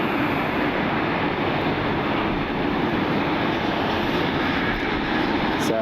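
A CRJ regional jet at Cleveland Hopkins airport in the rain gives a broad, steady engine roar with rain hiss, sustained and fairly distant, with no voices.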